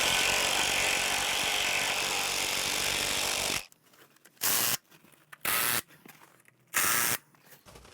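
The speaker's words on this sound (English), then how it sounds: "So we're going to wrap up now, tightening the EXO frame into place." Ratchet tightening bolts on an egress window frame: a steady burst of rapid clicking, then three short separate bursts of ratcheting with quiet gaps, close and loud.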